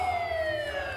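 Police siren from a comedy film, a loud, steady electronic wail with a slowly falling pitch, sustained for about a second over a low rumble of traffic or score.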